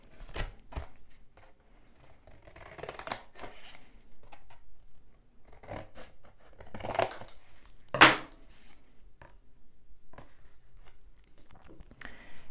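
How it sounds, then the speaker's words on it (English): Scissors snip through card to cut out a triangle, giving scattered close, crisp cuts and rustles, with one louder sharp snip partway through, in an otherwise quiet space. "First, take your card and cut a triangle out."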